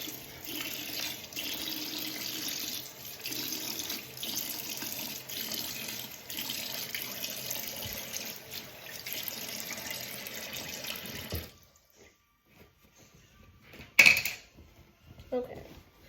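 Running tap water splashes steadily into a sink while a face is rinsed of cleanser for about eleven seconds, then the flow stops, leaving near quiet with a brief clatter and a faint voice.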